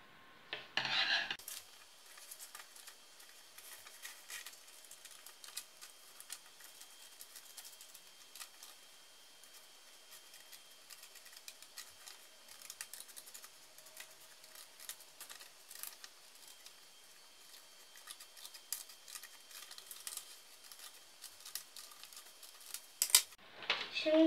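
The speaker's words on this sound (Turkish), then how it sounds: "Önce gövdeyi keseceğim." Scissors cut a paper body out in faint, repeated snips and rustles that run for about twenty seconds at close range, with a louder handling noise at the start and end.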